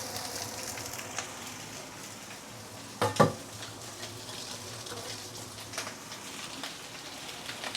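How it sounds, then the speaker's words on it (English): Prawn shells sauté in hot oil with ginger, giving a soft, steady sizzle with a brief sharper clatter of stirring partway through. "And we saute the prawn shell for a minute or 2 before we continue."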